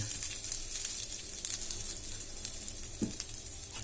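Dry red chillies and grated fresh coconut roast in a pan over a low flame for pineapple gojju, making a faint, steady sizzle close by with light stirring.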